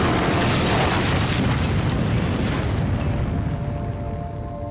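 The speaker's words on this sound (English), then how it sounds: "there was a massive train explosion in northern North Korea" A massive train explosion erupts as a loud, sustained low rumbling roar that stays heavy for several seconds and then slowly thins and fades.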